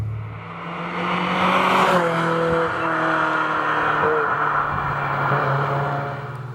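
A 1999 Ferrari F355 with its V8 engine pulling hard while driving, a loud sustained engine drone with rising and falling pitch as it revs and shifts, heard from inside the car without talk.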